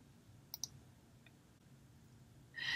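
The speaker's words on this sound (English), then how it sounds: "Click OK." Computer mouse clicks in a CMS editor, a quick close double click followed by a fainter single click against quiet room tone.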